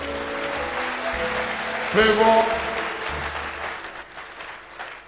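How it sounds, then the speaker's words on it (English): A church congregation claps for Jesus during a healing service, steady applause running under a voice and background music, with a brief louder swell midway. "Are you clapping for Jesus?"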